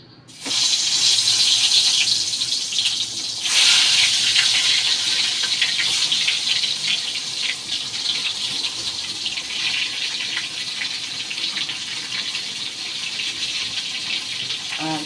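Eggplant pieces dropped into hot oil for frying alongside pabda fish, giving a loud, steady sizzling hiss that starts suddenly and holds strong throughout without any talk.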